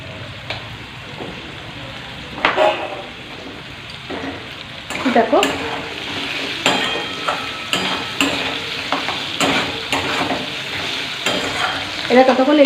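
Onions sizzle and fry steadily in a hot pan, with scattered stirring scrapes and clicks growing busier partway through.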